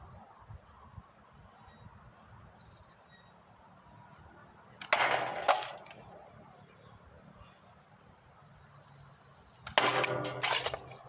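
Two sharp slingshot shots fired at a can, each a brief snapping release with a short rattling tail, spaced about five seconds apart over a quiet outdoor background.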